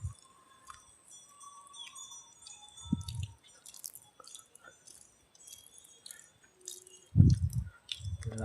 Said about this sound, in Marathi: गाई पाणी पिते